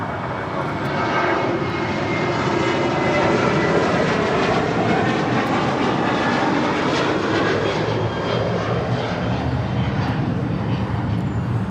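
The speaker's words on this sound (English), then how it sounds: "This is Sun Country Airlines 8501 taking off to Kailua, Kona, 737-800." A Sun Country Airlines Boeing 737-800 jet roars loudly and steadily through its takeoff at LAX, a broad continuous engine rumble and whine with no break, heard close and alone.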